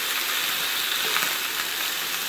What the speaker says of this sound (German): diese gewürzten Rouladen braten wir jetzt von beiden Seiten an, dass sie schön ein bisschen Farbe bekommen